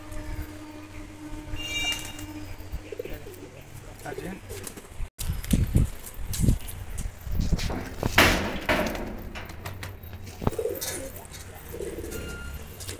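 Lalsira pigeons coo in a loft, soft repeated throaty calls close by with fluttering and a sharp knock midway, while someone talks over them.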